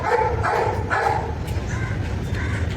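A dog barks outdoors, three close barks early on followed by two fainter ones, over a constant low background rumble.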